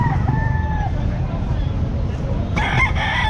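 A Lemon Sweater gamefowl rooster crows loudly nearby at a busy pet market in Calumpit, followed by another crow or clucks over low crowd and traffic noise.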